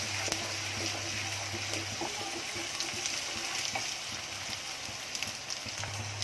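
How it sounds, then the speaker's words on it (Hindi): Ginger garlic paste fries in a pan for a green beans sabzi, a steady, quiet, rain-like sizzle with a few faint ticks and no voices. "इसमें डाल रही हूँ अपना 1 चाय की चम्मच अदरक लहसुन का पेस्ट, इसको भी अच्छे से भूनिए।"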